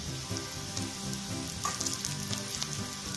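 Three green chillies added to sautéed onions frying in oil for egg biryani, a steady close sizzle and crackle running throughout with light stirring, no talk.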